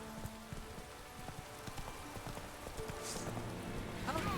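Hooves of Geralt's horse Roach in The Witcher 3 clopping at a steady gallop over ground amid rain, moderately loud with a brief voice or whinny-like sound near the end.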